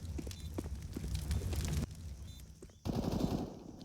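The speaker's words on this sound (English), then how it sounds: "A couple of stray bullets on the push" Rapid gunfire bursts from a Counter-Strike match on the Mirage map, with dense automatic fire and scattered shots, loud and close, cutting off abruptly and resuming with a sharper burst near the end.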